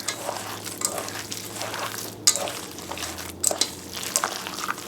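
A meatball mixture with Worcestershire and a whole egg is mixed together for cranberry meatballs, giving soft wet squelching and irregular utensil clicks against a bowl, close and fairly quiet, with two sharper knocks in the middle.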